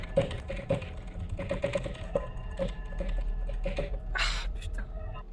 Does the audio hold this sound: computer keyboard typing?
yes